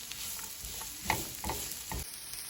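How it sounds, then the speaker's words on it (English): Onion sautéing in a pan for spicy tinga, a soft continuous sizzle with a few scraping stirs of a utensil, close and fairly quiet, no voices. "we're gonna go ahead and saute our onion for like 3 to 5 minutes"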